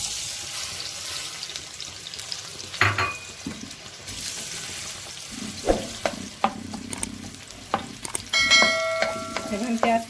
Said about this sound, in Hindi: सबसे पहले हम इसमें ऑयल शामिल करेंगे और इसके साथ जाएंगे प्याज।